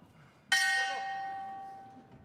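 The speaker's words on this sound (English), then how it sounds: "So the bell about to go." A single bell strike at a European youth wrestling championship in Kielce marks the end of a bout, ringing out loud and clear before decaying slowly over about two seconds against quiet arena background.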